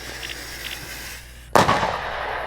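A firework goes off in a video game: a faint fizz, then a sudden loud burst followed by crackling and a lingering hiss, with one more small pop at the end.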